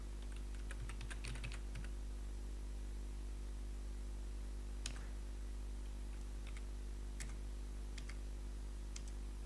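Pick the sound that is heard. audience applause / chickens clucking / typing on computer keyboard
typing on computer keyboard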